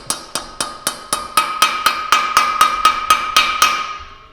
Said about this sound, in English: That's a nice masonry hammer there.